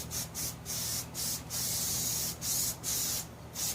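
Rust-Oleum primer sprayed from an aerosol can onto a Brinly plow in short hissing bursts, about seven close, fairly quiet sprays separated by brief pauses, with no talking.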